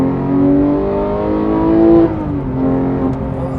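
Manual Porsche 911 GT3 (991.2) engine revving hard, with a loud, rising tone that climbs toward its peak and then drops sharply on an upshift before pulling again, heard from inside the car.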